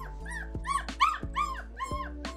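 Young foster puppies whine and yip in a quick run of high, rising cries, with short barks mixed in, close and loud without any talking.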